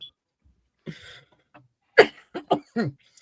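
A man coughs a few times in short, close bursts after a brief throat sound, with quiet gaps between.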